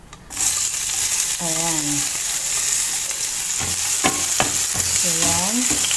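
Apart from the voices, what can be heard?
garlic sautéing in hot oil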